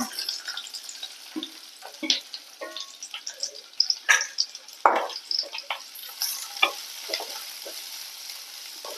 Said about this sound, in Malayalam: നമുക്ക് രണ്ട് സവോളയാണ് അത് മീഡിയം ടൈപ്പ് അതിട്ട് കൊടുക്കുക